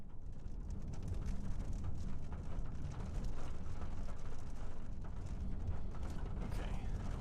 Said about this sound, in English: now we're getting into some heavy rain out here